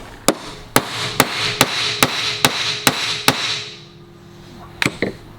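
Heavy hammer blows strike a steel bolt to bend it while an alternator adjustment bracket is made for a 1957 Volvo, about eight sharp ringing hits in an even rhythm, then a pause and a few quicker taps.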